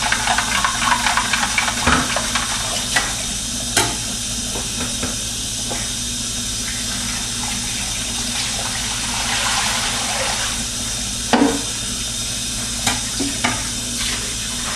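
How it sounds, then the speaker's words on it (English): Water running into a container holding a cup of dissolved iodized salt to make a gallon of brine, a steady hiss and splash that goes on throughout, with a few clunks and knocks along the way. "I'm just filling it up to make a full gallon."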